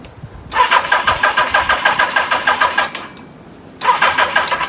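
The starter of a 1982 Suzuki GS1100 GK motorcycle cranks its engine in two close, loud bursts of rhythmic churning, separated by a short pause, without the engine catching.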